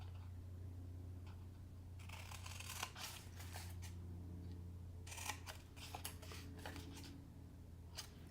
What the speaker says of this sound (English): So I'm going to cut up to that second score line.